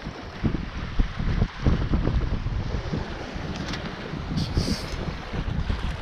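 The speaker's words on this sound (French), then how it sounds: "on va tirer un bord ou deux ici dans le canal, entre Itaque devant nous et" Sailboat under sail in a light breeze in the channel between Ithaca and Kefalonia, Greece, with steady wind rushing over the microphone and water washing against the hull, loud and continuous.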